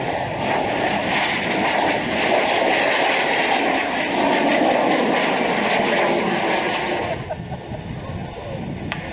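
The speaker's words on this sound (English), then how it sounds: "This particular aircraft operating out of Bournemouth and coming in low from the left." Large aircraft from Bournemouth flying in low over a grass airfield at the Middle Wallop air show, a loud sustained engine roar that swells and then eases off near the end.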